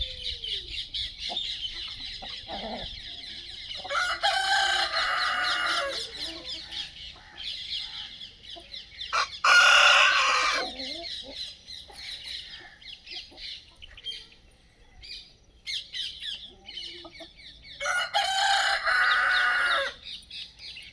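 Roosters on a desi poultry farm, among them a black pure Aseel bird, crow in several long loud calls with quieter clucking and chirping between them, close by and free of talk.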